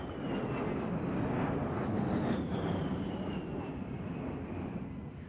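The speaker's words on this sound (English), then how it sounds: "High and low speed pass." A-10 Thunderbolt II jet making a speed pass, a loud sustained engine roar with a whining tone that slides slowly downward as the aircraft passes, steady throughout.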